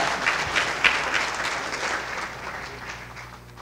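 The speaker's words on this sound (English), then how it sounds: "Please, give them a round of applause." Applause from an audience at a youth philanthropy grant presentation, a dense burst of clapping that peaks early and then slowly tapers off.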